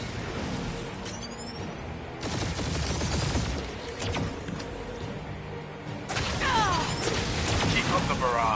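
Sustained gunfire barrage in the Marvel's Guardians of the Galaxy video game, dense rapid volleys and crashes that surge in two loud bursts amid a battle soundscape, with voices talking over parts of it.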